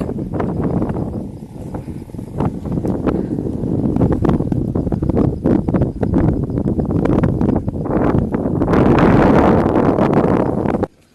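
Steady, loud wind buffeting the microphone outdoors at a cold night campsite, a continuous roar with gusts that swell stronger near the end before cutting off.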